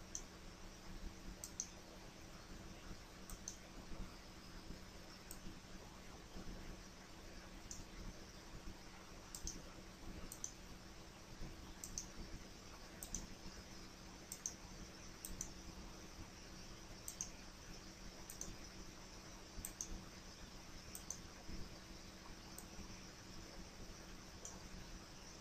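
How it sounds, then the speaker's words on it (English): A computer mouse clicking while plugins are installed, heard as faint, sparse, sharp clicks at irregular intervals over a low, steady hum of room and fan noise. "how I'm going to do this is by right-clicking on Install Plugin on each one"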